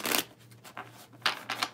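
Tarot cards being shuffled at close range: several quick papery riffling bursts separated by short pauses, with no voices.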